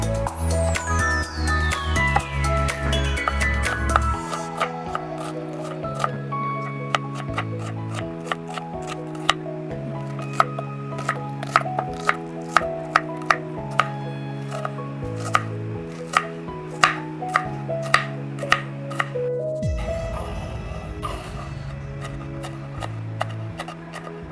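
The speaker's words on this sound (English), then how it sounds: "let's chop 2 to 3 onions finely" Onions being finely chopped with a knife: quick, regular taps of the blade on a cutting board, steady and close, running throughout over background music.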